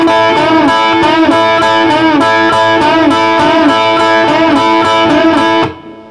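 Blues guitar in A plays a slow riff, a string bend followed by repeated double stops on the top two strings, loud and close with a steady pulsing rhythm that stops abruptly near the end.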